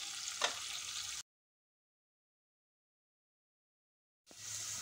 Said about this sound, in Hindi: तो प्याज हमारा बहुत ही अच्छे से भून गया है